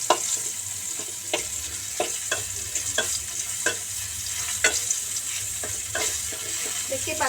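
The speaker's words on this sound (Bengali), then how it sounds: "দেখতেই পাচ্ছেন আমি মরিচগুলো তেলে ভেজে নিচ্ছি" Green chilies fry in soybean oil with a steady close sizzle, and spatula strokes stir them at a regular pace throughout.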